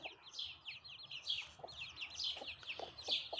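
A hen clucking close by in a quiet yard, a string of short, repeated clucks in an uneven rhythm, with faint rustling underneath.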